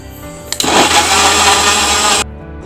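A blender whirs loudly as it mixes a papaya and chocolate shake with milk, starting abruptly after a short click, running at a steady high-pitched drone for under two seconds, then cutting off to near silence.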